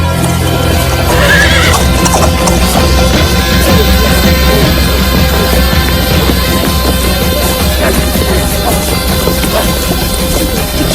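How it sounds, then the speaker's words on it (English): A white horse in a village cemetery neighs and whinnies while its hooves clip-clop steadily, close and loud throughout, with no talking. "they brought a white horse to the cemetery and made it jump over the fresh graves"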